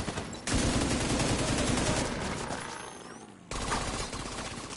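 Rapid automatic gunfire in the video game The Division 2 rattles loud and continuous in long bursts, with a short pause before another dense volley starts.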